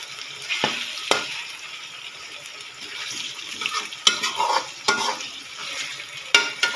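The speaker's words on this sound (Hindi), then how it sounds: "गोश्त का कलर चेंज होने तक इसको भूनेंगे।" Chicken sizzles and fries in a karahi for Punjabi chicken karahi while a utensil stirs it, with a loud steady hiss broken by sharp scraping stirs against the pan.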